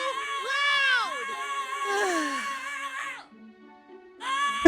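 A screaming doorbell in The Misty Moira Tavern video game wails in long, wavering shrieks that break off briefly and then resume, loud and shrill.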